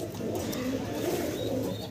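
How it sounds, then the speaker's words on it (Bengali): A large pigeon coos in soft, throaty repeated pulses close by, continuous for a couple of seconds. "আরও এক পিস স্টেসার কবুতর দেখতে পারতেছি"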